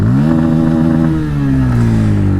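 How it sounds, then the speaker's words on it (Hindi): Up close, a Bajaj Pulsar P150 motorcycle engine revs smoothly, the loud steady drone rising in pitch, easing briefly, then climbing again with no voice over it. "the engine is very rev happy, बहुत आराम से रेव होता है"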